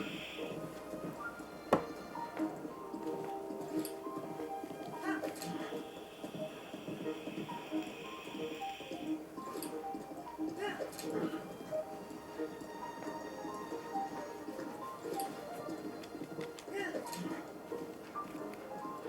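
A horse's hooves clip-clop on a bridge in Zelda: Breath of the Wild, with a steady rhythmic trot and game effects underneath, while a voice talks over it throughout.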